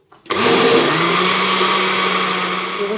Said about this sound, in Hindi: मैं बॉयल करने से पहले इसको ब्लेंडर में डालती हूँ और इसको हम अच्छी तरह ब्लेंड कर लेते हैं।